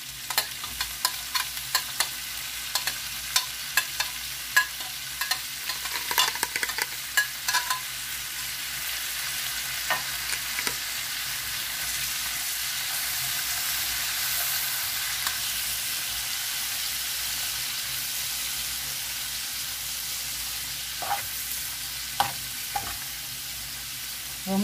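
Onion, bell pepper and tomato frying with dried beef charque in butter, a soft, steady sizzle with a burst of clattering stirring early on and occasional faint scrapes.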